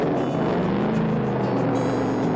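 A motorbike carries a whole family out on a journey through a village, its engine a steady, continuous drone that stays constant and fairly close from start to finish, with no one speaking.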